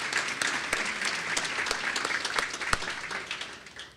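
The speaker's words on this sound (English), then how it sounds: "Let's give all of our sponsors a big round of applause." An audience at a city State of the City address claps for the sponsors. The applause is dense and sustained, with scattered sharper claps standing out, and it fades slightly toward the end.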